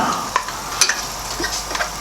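Ginger and garlic sizzle steadily in a hot pan with whole spices while an Indian restaurant base gravy is cooked, a continuous close frying hiss broken by faint stirring scrapes and small pops.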